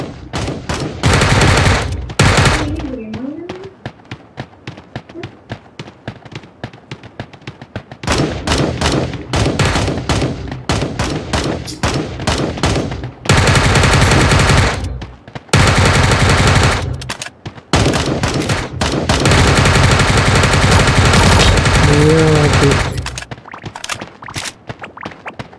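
Bursts of rapid automatic gunfire in a shooting video game, loud and dense, coming in long sustained volleys separated by short gaps, with a few softer single shots in between.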